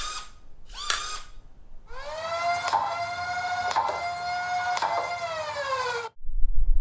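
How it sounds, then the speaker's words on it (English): A Diana Nerf blaster's flywheels spin up with a couple of short bursts, then a steady high, whirring whine holds for several seconds before cutting off abruptly, close and loud with no speech. "Let me show you the sound made by this blaster as compared to other flywheel blasters."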